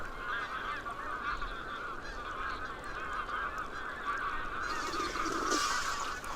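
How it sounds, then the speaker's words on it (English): Many magpie geese honk at once, a dense, continuous chorus of calls from a sizable flock feeding in a flooded area at moderate distance, with no voices. "a flock of magpie geese feeding in a flooded area"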